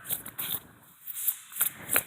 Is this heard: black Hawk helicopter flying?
no